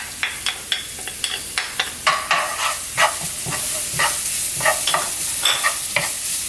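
Shallots fry in a pan while being stirred, with repeated scraping strokes in a quick, irregular rhythm over a constant close sizzle, loud and with no talk.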